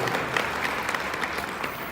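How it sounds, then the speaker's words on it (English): An audience at a corporate retreat applauding, a dense steady patter of many hands clapping that holds at an even level throughout. "Hey, you can applaud for that."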